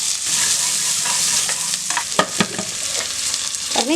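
Shallots and curry leaves sauté in a pan with a bright continuous sizzle, broken by a few sharp scrapes and taps of a spatula stirring, close and clear.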